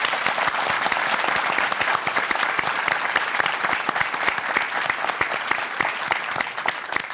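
Studio audience applause closes a Turkish talk show segment, dense and steady clapping that holds strong for several seconds before easing slightly at the end.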